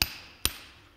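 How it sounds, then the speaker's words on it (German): Two sharp metallic hammer blows on a chisel, about half a second apart, close and clear, each ringing briefly before fading, with no voices. "also fang an zu meißeln"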